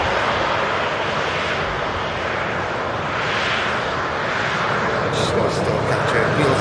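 An airplane touching down at Manchester Airport after arriving from Amsterdam gives a loud, steady jet engine roar across the whole stretch, with someone talking over it.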